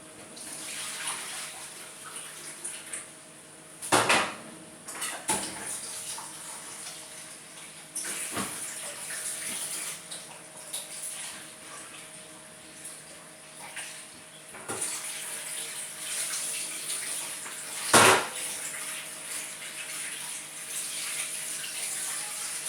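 Hot soba noodles being rinsed under a running kitchen tap, a steady rushing stream of water with a few louder splashes and knocks as the noodles are handled.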